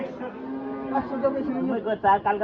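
A cow at a cattle market lets out a long, low moo nearby, with voices and chatter in the background.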